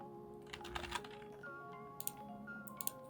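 A computer keyboard is typed on at a desk while working in Unreal Engine 5, with several soft, separate key clicks over a steady background hum.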